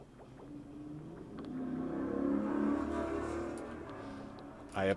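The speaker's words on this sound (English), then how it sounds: "I apologize for the loud cars." Cars pass outside, a low rumbling engine noise that swells in the middle and fades, with a brief louder burst at the end.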